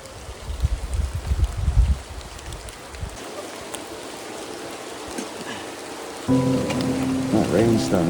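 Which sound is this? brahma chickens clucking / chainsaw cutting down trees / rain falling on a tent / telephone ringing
rain falling on a tent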